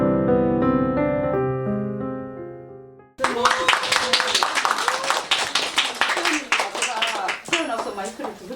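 Audience applause breaks out sharply after a sustained musical chord fades, a dense crowd of clapping hands continuing steadily for several seconds, fairly close and loud, with voices mixed in.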